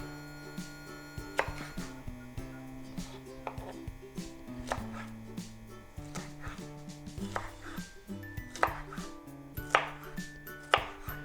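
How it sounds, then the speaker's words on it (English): Knife chopping banana peppers for salsa on a cutting board, a steady run of crisp rhythmic chops over a background of music, with no talking. "I'm gonna go ahead and finish chopping these up"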